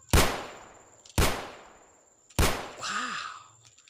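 A toy cowboy revolver fires three sharp, loud bangs about a second apart. Each bang has a short ringing decay, and the last one trails into a faint electronic warble.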